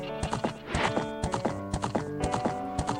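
Rhythmic hoof clip-clops from a game horse, steady and close, over a busy musical backdrop.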